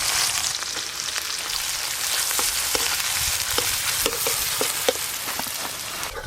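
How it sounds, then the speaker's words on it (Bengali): Onions for beresta fry in hot mustard oil for a katla fish curry, giving a steady, close, dense sizzle with scattered small pops and spatula clicks throughout, no voices. "তাই সর্ষের তেলেই ভেজে নেব"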